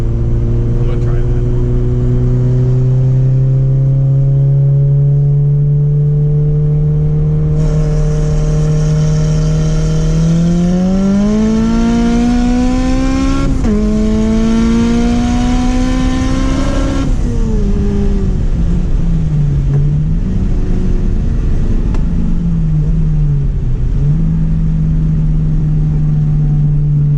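Turbocharged B20V Honda Civic pulling hard on a highway, its engine note climbing steadily in pitch through a long rev, briefly dropping at a shift and rising again, loud and close from inside the car, with people talking over it.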